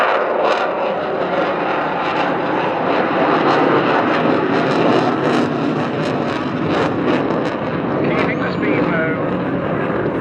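An RAF Eurofighter Typhoon jet flies a display at an English Riviera airshow, its loud continuous engine roar rumbling steadily with a faint rising whine near the end.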